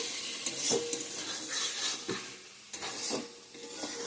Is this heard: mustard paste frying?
yes